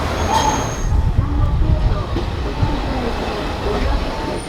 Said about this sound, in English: There's a tram that goes all around the city